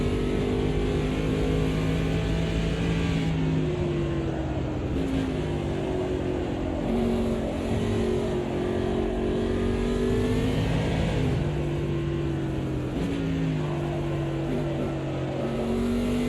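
Classic NASCAR stock car engine in the Automobilista 2 racing game, a loud continuous V8 drone with steady harmonic pitch that climbs and dips through gear changes and throttle lifts, running without a break for the whole stretch.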